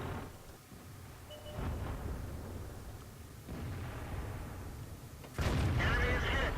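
Tank cannon shots and shell impacts in the video game World of Tanks, playing a Centurion 7/1: several loud, booming bursts with the heaviest blast near the end, mixed with game background noise.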